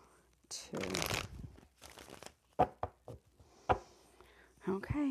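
Two quick bursts of cards being riffle-shuffled, followed by a few sharp snaps and taps of cards, close and fairly quiet, with brief soft voice in between.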